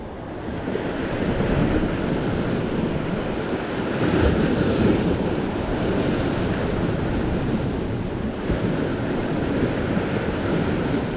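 Waves break and rumble continuously along a shore, heavy low surf mixed with wind buffeting the microphone, close and loud with no talking.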